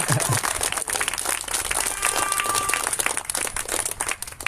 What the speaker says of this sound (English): Y'all can clap to that.